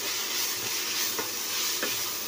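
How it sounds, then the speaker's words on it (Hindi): Vegetables being stirred in a pan with Schezwan sauce and tomato ketchup, a steady sizzle with a few sharp scrapes of the spoon near the end, close and continuous with no talking. "इसी के साथ हमने एक टेबलस्पून टमाटो केचप ले लिया है, इसे भी ऐड कर लेंगे और इसे हम मिक्स कर लेंगे।"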